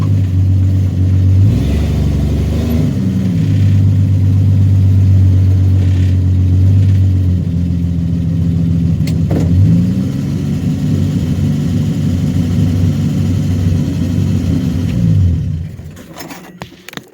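A 1966 Dodge Dart GT barn find, sitting since 1985, rumbles along with a loud, steady engine drone and a few rises and shifts in pitch, then slows and stops, the engine sound dropping away near the end.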